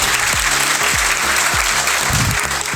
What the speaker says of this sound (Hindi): तो उनके लिए भी जोरदार तालियां